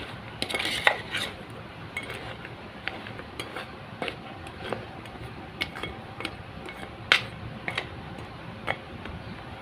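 Gavvalu being stirred into sticky jaggery syrup in a metal vessel: irregular scraping and sharp spoon taps against the pan, close and continuous, with no talk.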